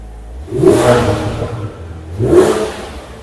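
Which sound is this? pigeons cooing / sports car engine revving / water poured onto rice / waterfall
sports car engine revving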